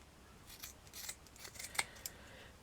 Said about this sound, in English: I'm going to cut a petal.